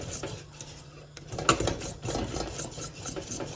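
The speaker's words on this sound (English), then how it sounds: "You can see now it's starting to thicken up. Just keep whisking, just keep whisking." Pastry cream for kremšnita being whisked in a pot as it thickens, a quiet rhythmic scraping and tapping of the whisk against the metal with a sharper clink partway through.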